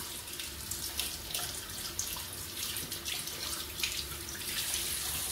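A bathroom tap runs water onto a small sponge, a steady hissing splash that stays continuous and fairly faint, close by, with no talking.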